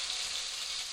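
Rendang spice paste for beef rendang frying in a hot pan makes a brief, soft, steady hiss of sizzling oil, fairly faint and without other sounds.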